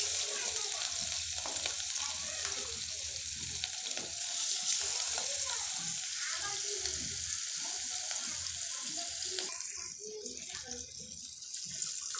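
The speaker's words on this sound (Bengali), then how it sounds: "এখানে আমি তেল গরম করে নিয়েছি তো এবার আমি মাছগুলো ভেজে নেব" Hilsa fish pieces frying in hot oil, a continuous close crackling sizzle that stays even throughout and eases slightly near the end, with no voice.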